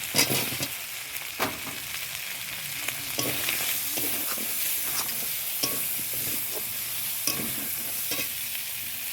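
Potatoes sizzle and fry in a pan of chicken curry with taro, a loud continuous hiss with repeated stirring scrapes, close and without talk.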